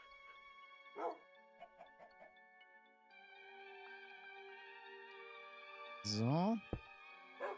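A dog in the Minecraft video game gives a short synthetic bark near the start and a louder bark-like yelp later. Game music tones and soft clicks run between them, and a voice speaks briefly.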